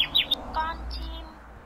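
Short bursts of high bird chirps come from a children's animal-learning game, with two or three quick tweets at the start and a fainter call near the middle over a low background hum.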